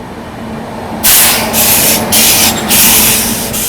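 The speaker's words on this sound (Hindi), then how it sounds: "ट्रेन यहाँ पर अपनी थोड़ी सी स्लो डाउन भी हुई है।" The Kanpur Shatabdi Express runs and slows slightly, a dense rushing rumble inside the moving train that swells suddenly into a loud hissing roar after a quieter opening second, steady and close.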